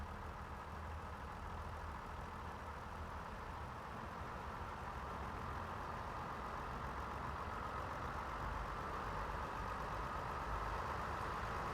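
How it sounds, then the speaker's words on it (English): Idling diesel engine of a Class 142 Pacer train in Train Sim Classic, a steady low hum and rumble that continues unchanged without pause, with no voices over it. "I think the engine audio is certainly lower"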